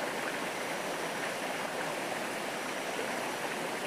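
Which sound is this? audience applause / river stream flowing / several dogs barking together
river stream flowing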